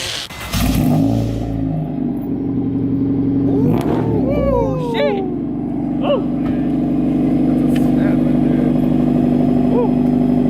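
A Lexus IS250 with an HKS Hi Power aftermarket exhaust roars through a loud, raspy rev, then settles into a deep, rumbling idle, with a couple of brief exclamations near the start.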